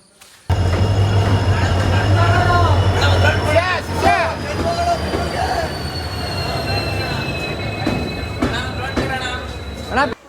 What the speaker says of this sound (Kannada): ಟ್ರೈನ್ ಹತ್ತಿದೀವಿ